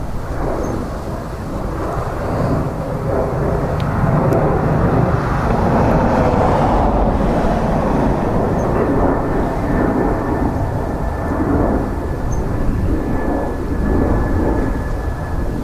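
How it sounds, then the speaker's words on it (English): An Aer Lingus aircraft arriving at Dublin Airport from Pisa gives a continuous, loud, broad rumbling roar that holds steady for the whole stretch, with no voices. "Aer Lingus coming in from Pisa."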